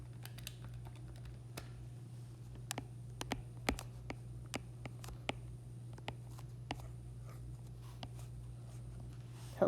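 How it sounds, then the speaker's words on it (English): Math answers about the area of a circle being written out: sparse, light clicks and taps at irregular intervals, faint over a steady low electrical hum, with nobody talking. "I'm just gonna write out the answers"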